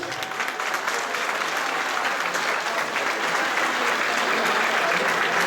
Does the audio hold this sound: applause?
yes